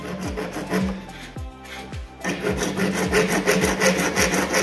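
A small dove saw hand-cuts Schedule 40 PVC pipe, close and rhythmic, with steady rasping back-and-forth strokes that quicken as the cut proceeds.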